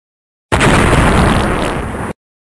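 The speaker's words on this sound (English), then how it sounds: "I will lock you in here with a bomb that is filled to the brim with my own poop" A loud, cartoonish bomb blast, one sustained burst of about a second and a half that fades slightly at the end, heard alone without talk.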